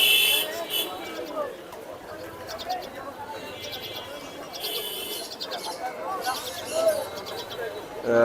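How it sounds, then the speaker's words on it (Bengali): Pigeons coo and chirp among the steady bustle of a busy Mirpur-1 pigeon market in Dhaka, with fancy, racer and Giribaz birds for sale, while people talk and bargain nearby throughout. "মাশাল্লাহ খুব সুন্দর এক জোড়া ঝাঁক কবুতর"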